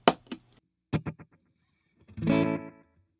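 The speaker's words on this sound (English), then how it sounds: "Let's hear how this sounds now with modulation off." Electric guitar run through a Donner delay pedal with its modulation switched off: two quick plucked phrases, then a sustained strummed chord, with short echoes trailing each attack, playing alone and fairly close.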